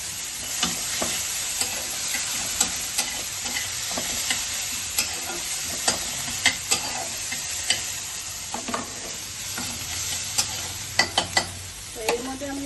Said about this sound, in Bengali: ভালো করে মশলাটা একটু কষিয়ে নিই